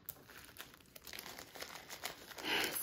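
A resealable plastic bag for diamond painting supplies crinkles while being handled, with soft, close, irregular rustles that grow louder near the end.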